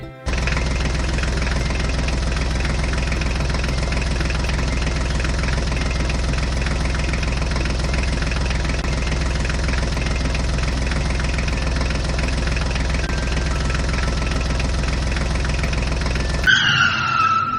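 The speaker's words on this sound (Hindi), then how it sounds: "चलो बच्चों, इस ट्रैक्टर को चलाते हैं" A toy farm tractor's engine sound runs as a steady, even drone for about sixteen seconds, then cuts off abruptly, leaving a brief clatter at the end.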